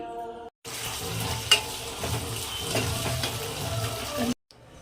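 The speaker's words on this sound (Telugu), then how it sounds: "కందిపప్పు ఇలా ఎర్రగా వేయించుకోవాలి" Toor dal roasting in a pan for coriander chutney, giving a steady close sizzle with scraping stir sounds and a few sharp clicks, no talk.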